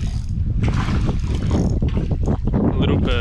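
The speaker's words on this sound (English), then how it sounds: "That wind's gotten real heavy" Heavy wind buffets a small fishing boat out on the water, a steady loud roar of gusts across the microphone that continues unbroken through the whole stretch.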